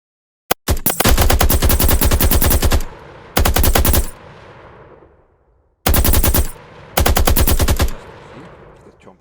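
Bought gun firing in an Unreal Engine zombies game: loud, rapid automatic bursts, a long burst followed by a short one, a pause, then two more bursts, each cutting off sharply.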